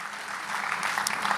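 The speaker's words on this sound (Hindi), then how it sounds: "एक बार जोरदार तालियां आप सुंदर के लिए, हरियाणा के लिए बजाएं।" A live comedy show audience in India breaks into applause, a brief wash of many hands clapping that swells slightly as it goes on.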